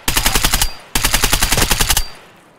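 Automatic gunfire in a raid-style shooter video game: two loud, close bursts of rapid rounds, about a dozen shots each, separated by a brief pause.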